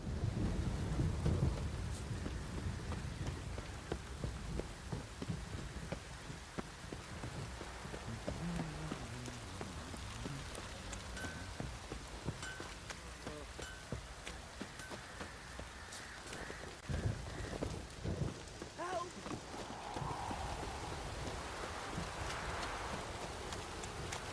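Steady rain in the video game The Witcher 3 pours down with low rumbling thunder underneath, a continuous wash of drops and distant booms, no voices.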